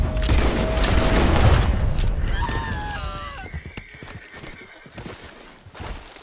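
A horse whinnies in the Red Dead Redemption 2 video game, a loud rising neigh after a burst of hoofbeats and gunfire-like noise, the sounds fading into quieter game ambience.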